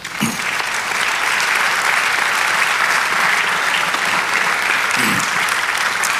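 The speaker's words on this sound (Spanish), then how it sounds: "denle un aplauso al Señor." A church congregation applauds during a Spanish-language sermon, a loud, sustained wash of many hands clapping that fills the space, with faint voices and a brief laugh or shout rising through it.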